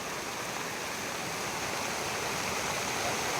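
Floodwater from heavy overnight rain rushes past a home in a steady, dense wash, like a stream or small waterfall, constant and moderately close with no voices.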